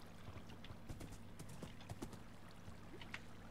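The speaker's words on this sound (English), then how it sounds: "Hello there, horse." Horse hooves clip-clop in Minecraft as a short run of quiet, evenly spaced hollow knocks over a low soft background hum.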